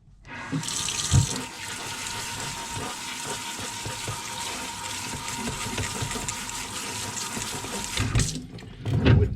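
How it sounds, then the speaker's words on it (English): Water from a tap runs steadily for several seconds, pouring over grass seeds being soaked in a sprouter, with a hollow splashing wash that starts and stops abruptly. "I will use a little water to seep them and give the seeds"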